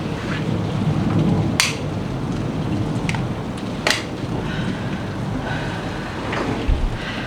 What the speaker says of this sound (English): I love sitting here by my plant and by the window and listening to the rain.